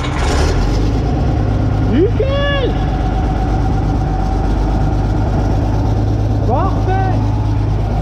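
An old Ford 9600 tractor engine idles with a steady low rumble throughout, while two short rising whines cut in over it and a voice speaks briefly.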